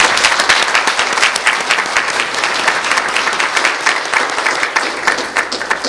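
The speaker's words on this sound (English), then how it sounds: "another round of applause for Halmoni" An audience applauds steadily and loudly for an honored elderly Korean woman at an evening community event, dense sustained clapping filling the whole stretch with no break.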